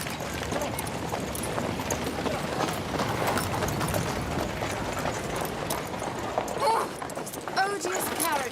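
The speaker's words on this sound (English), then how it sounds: "Odious carriages, I detest them." Horse-drawn carriage passing in a period street scene: continuous clip-clop of hooves and rolling wheels, loud and close, with people talking over it and a brief louder voice near the end.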